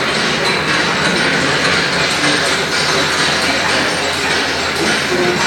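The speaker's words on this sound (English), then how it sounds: "Above, we can see the steel decks being riveted in place." Steel decks being riveted in a shipyard setting make a loud, dense, continuous mechanical clatter, a busy metallic din without pauses.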